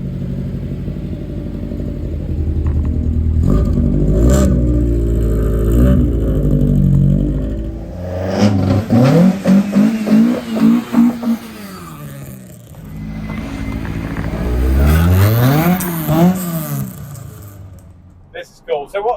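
Resto-mod Ford Escort pulling away and accelerating hard, its loud engine revving up through several gear changes with rising and falling sweeps, close by, with voices talking underneath.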